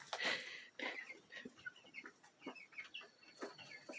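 Young chickens and cockerels cluck and chirp softly in a brooder, with scattered short calls overlapping at close range in a quiet indoor space.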